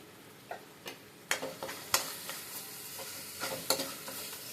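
Spices crackling and sizzling in hot oil as a utensil stirs the pan, with sharp scraping strokes and pops recurring at an uneven rhythm, close and moderately loud.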